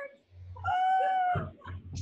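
A house cat gives a clear, drawn-out meow at close range, bracketed by a person talking just before and after.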